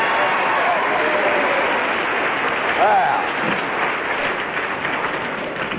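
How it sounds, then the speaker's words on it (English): Studio audience applause fills a 1957 CBS primetime game show taping, steady clapping throughout with a host's voice speaking briefly over it. "you seem to have a little extra applause here tonight"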